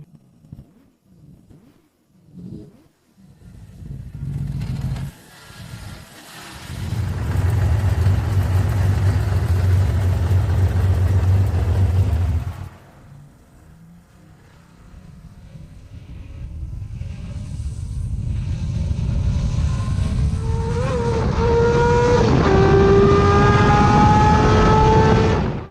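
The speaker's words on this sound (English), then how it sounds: "The sound of the engine." A Honda CBX 1000 inline six-cylinder motorcycle engine barks through a few short blips, then roars loudly under sustained revs, drops away, and climbs again through rising gear changes, close and with no voices.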